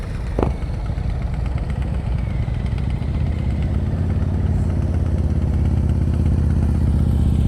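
A motorcycle runs during an advanced slow-speed riding practice session in Pennsylvania, its engine idling and burbling at low revs with light mechanical clatter, close and steady throughout, swelling slightly as the throttle is gently opened.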